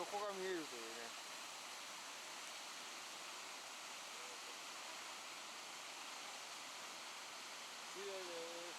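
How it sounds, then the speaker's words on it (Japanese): Ogama waterfall in Tokushima, Japan, a large twenty-metre fall into a deep plunge pool, gives off a constant rushing roar heard from some distance, with faint voices near the start and end. "これが大釜の滝"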